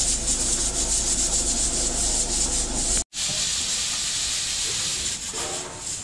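Crab cooking in a pot at a catering kitchen gives a steady, loud rushing hiss and bubbling boil, continuous and close, briefly cut off midway before resuming.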